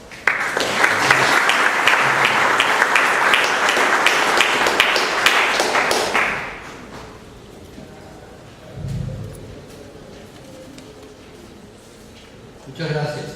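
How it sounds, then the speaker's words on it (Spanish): An audience at an engineers' association lecture gives a few seconds of dense, steady applause that then stops abruptly, leaving a quiet room with faint murmurs, a low thump and a short burst of noise near the end. "Recibamos con un aplauso al ingeniero."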